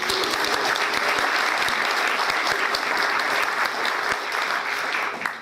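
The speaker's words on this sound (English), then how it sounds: "So I really want to give her another round of applause." Sustained applause from an audience at an evening chamber of commerce mixer, dense and steady handclapping throughout that thins slightly near the end.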